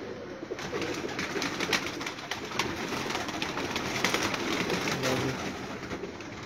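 Rooms of a rooftop loft packed with pigeons give off a thick, continuous cooing chorus, many birds calling at once close by, with scattered brighter chirps and no speech.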